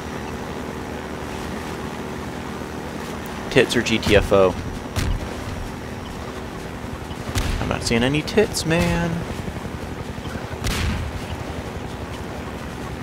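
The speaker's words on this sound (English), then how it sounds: "Get the fuck out of here, helicopter." Attacking helicopter in the video game Half-Life 2 during a river boating stretch, a steady mechanical drone with bursts of gunfire in several short clusters, heard under someone talking.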